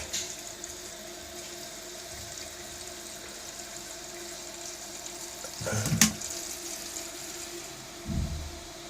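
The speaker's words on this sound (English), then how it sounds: "I can hear the water filling up." Toilet cistern refilling with water after a valve repair: a steady, quiet hiss of running water throughout, with a couple of brief louder knocks near the end.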